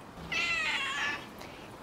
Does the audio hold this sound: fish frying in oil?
no